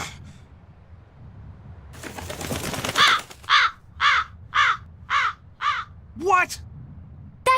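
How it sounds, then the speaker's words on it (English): A crow caws in Tales of Berseria, a string of six or seven loud, close, harsh caws in quick succession following a brief burst of rustling noise, with no talking. "That crow just flew off with the coin!"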